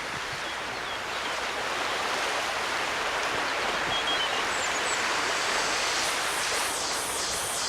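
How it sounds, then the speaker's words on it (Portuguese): A flowing creek rushes continuously in a steady, loud wash of water, with faint bird chirps rising over the flow toward the end. "Tá sentindo a água do riacho?"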